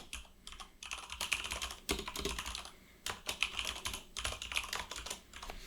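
Fast typing on a computer keyboard comes in bursts of key clicks with short pauses, close by and quiet, with no talking.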